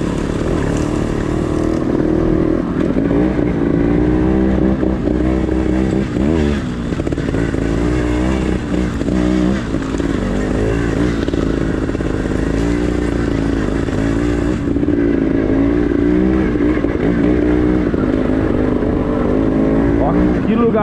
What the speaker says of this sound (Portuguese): Eu tentava ir lentamente, sem pôr o pé no chão, tracionando a moto no lugar